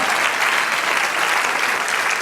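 Loud, dense applause from a church congregation during a worship service, sustained and even throughout.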